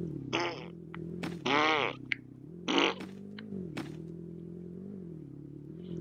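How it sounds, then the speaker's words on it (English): Loud fart sounds burst out in repeated bursts during a game of Brookhaven, some short and some drawn out, over a steady low hum and background chatter. "Someone is farting so loud right now."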